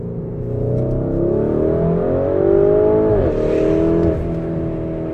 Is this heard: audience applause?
no